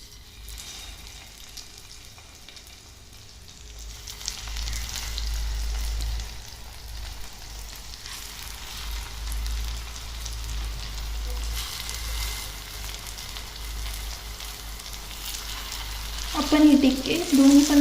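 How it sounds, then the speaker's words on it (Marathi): Aloo tikki shallow-frying in a little oil on a tawa, a soft continuous sizzle that builds gradually, with a brief clatter near the end. "आता आलू टिक्की मस्त अशी तव्यावरती फ्राय करून घेऊ."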